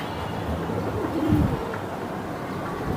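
Silver Giribaz pigeons kept for sale give a brief, low, soft coo in the middle, close by, over a steady background hum with no talking.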